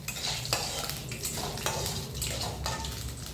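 Cashew nuts frying in a pan for a semiya sweet, a soft sizzle under repeated scraping and tapping of a spoon against the pan, close but fairly quiet.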